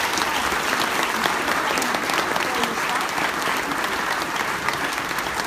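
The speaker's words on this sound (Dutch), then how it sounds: "Applaus voor Rob" A crowd at a livestreamed book opening applauds Rob, with thick, loud clapping that holds steady throughout, a dense wall of hands with faint voices mixed in.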